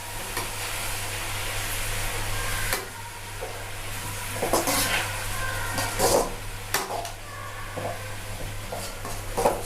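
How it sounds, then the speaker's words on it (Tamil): Chopped tomatoes and onions frying in a pan for prawn sambal are stirred close up. A steady sizzle runs underneath irregular scraping and clacking strokes of the spoon. "ஸோ அந்த 4 தக்காளியும் போட்டு அதையும் கிண்டணும்."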